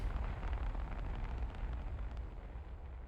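A deep, rumbling explosion from the video game The Hundred Line, a sustained low roar with crackling debris over it, moderately loud and heard alone.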